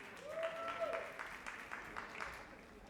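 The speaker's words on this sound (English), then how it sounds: "Clapping for you." Audience clapping at a Fall 2025 dean's list recognition ceremony, a soft, steady patter of many hands heard from a distance while names are read aloud over it.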